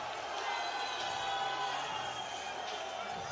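Loud, raucous crowd in a boxing arena, a dense steady roar of cheering and shouting filling the hall, continuous and sustained without pause.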